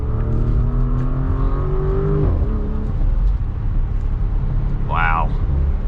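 A 2024 Porsche Cayenne S with its V8 accelerating from inside the cabin, engine note climbing through a gear with an upshift, steady and loud throughout.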